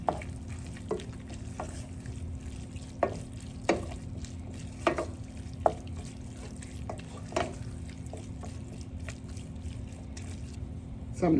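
Seasoned ground beef with garlic paste fries in a pan, giving a steady soft sizzle broken by regular scraping stir strokes, with faint talk now and then.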